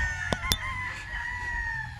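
Gamefowl chickens clucking and calling nearby, with a couple of sharp clicks early on and a faint rooster-like call drawn out over steady background noise.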